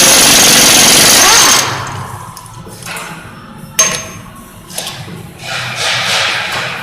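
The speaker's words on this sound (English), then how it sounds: "Back that up, hit that with the impact, you're going to spin that nut right on" An impact wrench spins a nut off a Kenworth 8-bag suspension air spring: a loud, sustained rattling burst for about a second and a half, then a few sharp short hits as the work winds down.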